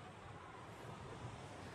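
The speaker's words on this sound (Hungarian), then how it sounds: "Úgy fúj a szél, hogy majd elvisz" Strong wind gusting across an open mountain setting on the Transfăgărășan road, a steady broadband roar of rushing air buffeting the microphone, continuous and fairly loud throughout with no speech.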